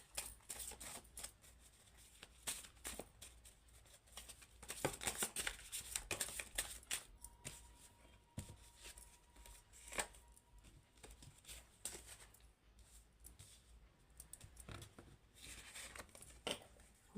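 Tarot cards are shuffled in steady bursts of papery riffling and flicking, close and fairly soft, continuing for a long stretch with brief pauses between runs.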